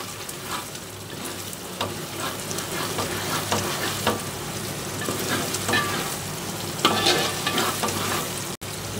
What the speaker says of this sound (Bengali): এখানে আমি মাংস দিয়ে দেব